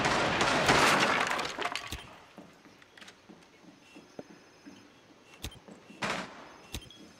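Glass shatters loudly in a Rainbow Six Siege match on the House map, a dense crashing burst that tails off into scattered tinkling fragments and faint clicks, with a few sharper cracks and a second smaller burst of breaking afterward.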